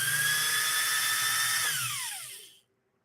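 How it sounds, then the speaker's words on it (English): A Pfaff 130-6 sewing machine motor spins at very high speed, near 7,000 RPM, giving a loud, high whine that holds steady, then winds down in falling pitch and fades to silence. "This motor tends to run very, very fast by design."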